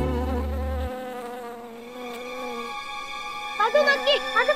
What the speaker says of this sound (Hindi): ये मधुमक्खी कहाँ से आ गई?